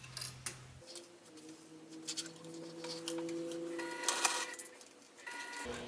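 A sewing machine stitching a bag's lining and gusset runs in a steady mechanical whir with a faint tonal hum, quiet and close, with soft clicks and fabric handling before and after.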